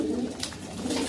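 Racing pigeons cooing in a loft, a couple of soft throaty coos close by over a low background murmur, with no talking.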